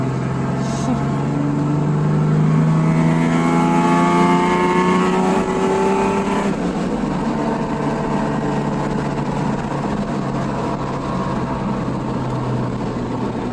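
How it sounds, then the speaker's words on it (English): A V6 Ford Mustang with Mach 1 exhaust, BBK X-pipe and no catalytic converters revs up with rising exhaust tone, then settles into a loud, steady idle rumble close by. "Sounds awesome. It's got Mach 1 exhaust with BBK X pipe."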